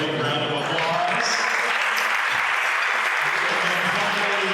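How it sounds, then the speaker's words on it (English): A Rotary Club lunch crowd gives a big, steady round of applause, loud and continuous throughout, with some voices mixed in beneath the clapping. "Let's give Deborah a big round of applause."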